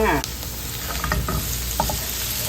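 Garlic frying in oil in a pan for pork belly with chili, a steady close sizzle with stirring scrapes and a few brief clinks of a utensil, no talking.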